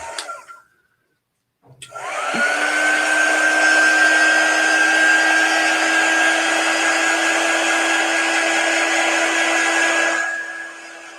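Heat tool drying shimmer paste on a wooden block, switching on after a brief click and running as a loud, steady whine with airy rush for about eight seconds, close by, before cutting off.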